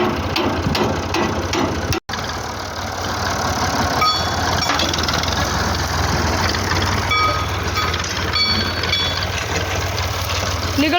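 A tractor runs steadily at idle with a loud mechanical rumble and a rattling, ratcheting clatter, while faint voices talk underneath.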